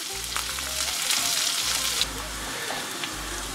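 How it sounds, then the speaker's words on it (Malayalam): Ingredients for a Sadya-style curd mango kichadi sauté in a pan until wilted, giving a loud, close, continuous sizzle with stirring scrapes over a low steady hum. "ഇതൊന്ന് വാടി വരുന്നൊരു ഇളക്കി കൊടുക്കുക കേട്ടോ"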